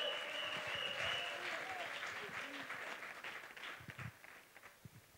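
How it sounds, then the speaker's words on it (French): A church congregation applauds during a New Year service, a dense burst of clapping that gradually thins and fades, with a voice speaking over it. "Acclamons le Seigneur Jésus-Christ"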